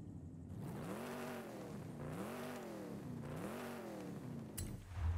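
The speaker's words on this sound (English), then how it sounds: "we'll actually be able to hear the engine better in this menu too" A Chevy Impala with a 6.2 liter V8 revs in Forza Horizon 5, the engine note rising and falling in three repeated sweeps, loud and close, with a sharp click near the end.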